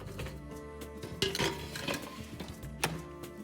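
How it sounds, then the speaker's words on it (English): Coated chickpeas clatter and rattle into an air fryer basket as they are spread in a single layer, producing a few close, light clinks and metallic taps. "Now add the coated chickpeas to your air fryer basket and spread in a single layer."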